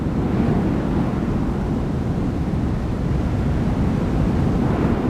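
Loud, continuous roar of strong winter wind on Jiri Mountain at night buffeting the microphone, a dense low rumble that never lets up, with no voices.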